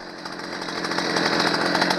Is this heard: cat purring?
no